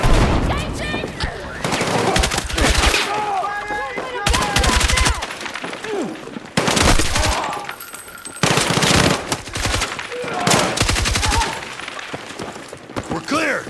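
Automatic and rapid gunfire from a Battlefield 6 campaign firefight, loud bursts repeating in clusters across the whole stretch with shattering debris and brief game voices between volleys.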